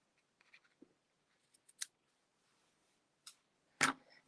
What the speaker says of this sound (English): So we'll scoot this up a little bit and trim these off.